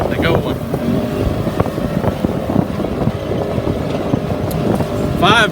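Small farm buggy engine running steadily close by with a rough low rumble and wind buffeting the microphone, heard out in a cow and milo field; someone talks briefly over the engine noise.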